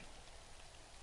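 Rain falls steadily in the Prison Architect video game, a soft, even hiss of broadband patter that stays constant and faint throughout, with no voices.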